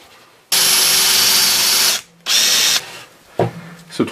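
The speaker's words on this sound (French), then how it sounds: "pour passer la lame, il faut commencer donc par faire un trou." A power drill bores a hole through a board for fretsaw work, in two loud, close whining bursts with a short pause between them, followed by brief clicks and knocks.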